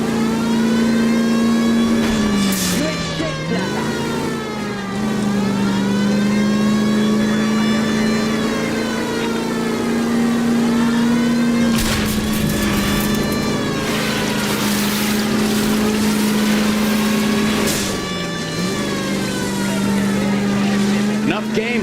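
A car engine in the L.A. Noire video game drones loudly through a car chase, its pitch rising and dipping as it revs and shifts, with sharp bursts of crashes or impacts along the way.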